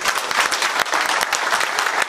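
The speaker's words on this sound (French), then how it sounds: "Je pense qu'on peut les applaudir" Dense, continuous audience applause at a French municipal ceremony presenting a National Assembly medal, with many hands clapping together loudly and steadily and no voices on top.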